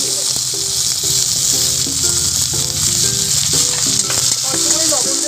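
Onion and whole garlic cloves frying in a pan give a loud, steady, close sizzle that crackles on without pause from start to finish.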